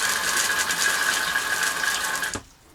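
Water from a pumped supply streams into an RV toilet bowl with a steady close rush and a faint tonal whine, then cuts off abruptly near the end, leaving quiet.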